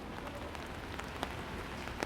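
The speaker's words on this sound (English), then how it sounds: "It's a rainy day here in central London" Steady rain falls in central London, a dense, even hiss of drops striking hard surfaces nearby, with a few sharper individual splats standing out over the constant wash.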